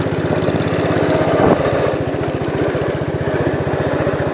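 A 1967 Gravely 430 walk-behind tractor engine runs steadily in high gear while being driven, a loud, close, rhythmic single-cylinder putter with a brief louder burst near the middle.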